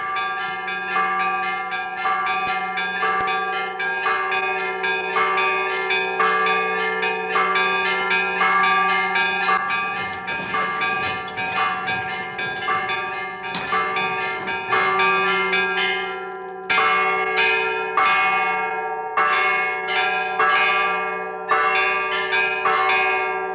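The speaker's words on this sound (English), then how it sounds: "At 3 o'clock, the bell rings for Vespers." The church bell of Saint Catherine's Monastery on Mount Sinai rings for Vespers, repeated resonant strikes with long humming overtones that overlap and sustain, steady and fairly near, with no voices.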